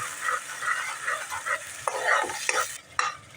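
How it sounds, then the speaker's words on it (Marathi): A paste of onion and coconut sautés in hot oil, giving a close, steady sizzle broken by scraping stirs and a few sharp clinks of a utensil against the pan. "हे आपण वाटण टाकून घेऊया कांदा खोबऱ्याचं आणि चांगलं परतून घेऊया"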